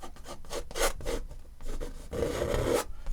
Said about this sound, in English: So I'm scraping off all the excess, and I'm just putting it right back on my palette